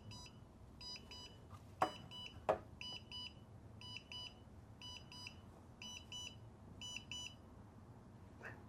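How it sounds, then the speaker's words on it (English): A series of short, high electronic beeps from a BETAFPV Lite Radio transmitter binding to a receiver repeats in quick clusters over a quiet hum, with a couple of sharp clicks near the start. "Once you hear that beep sound of 1 short and 1 long, that means that the binding is successful."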